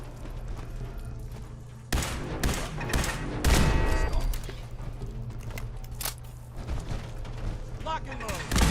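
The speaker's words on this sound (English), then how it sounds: "4 shots." Video game gunfire, a series of sharp, loud shots in irregular bursts over ongoing background noise and game sounds.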